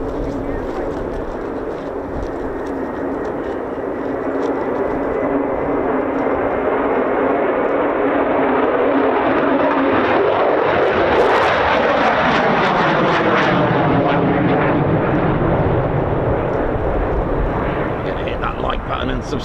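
Military jets such as F-15 or F-35 fighters flying over RAF Lakenheath, a loud continuous roar that builds and sweeps past with a rising and falling tone, fading slightly at the end.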